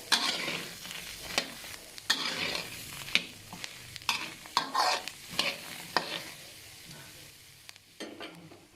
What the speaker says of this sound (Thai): คั่วให้จุกนะคะ ไม่ไหม้สักหน่อยก็ได้ค่ะอร่อยดีค่ะ